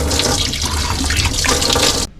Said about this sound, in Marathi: आता मी ह्याला पाण्याने धुवेल.